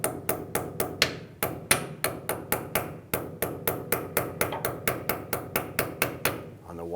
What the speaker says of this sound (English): I'm going to use a small hammer and I'm going to roll over the edges.